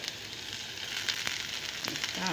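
Tomato slices sizzle and fry steadily in a pan, with a few light clicks and pops, heard alone.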